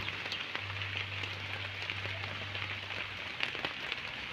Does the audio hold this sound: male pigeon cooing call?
no